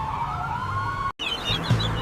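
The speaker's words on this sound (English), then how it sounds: "This is a police car. It helps keep the streets safe and rushes to emergencies." A police car siren wails in a steady sweeping tone, then after a brief cut gives way to a higher, quicker warble, fairly loud and with no voices, in a children's cartoon about emergency vehicles.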